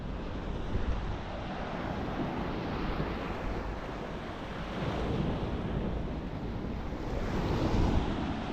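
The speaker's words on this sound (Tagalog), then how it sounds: "Ang lalaking alon, people." Big ocean waves roar and crash continuously on a cold, windy beach in France during heavy rain, with gusts buffeting the microphone and swells rising and falling nearby.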